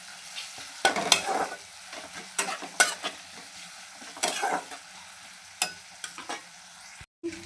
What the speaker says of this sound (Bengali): এবারে আমি এতে রসুন কুচি দিয়ে দেবো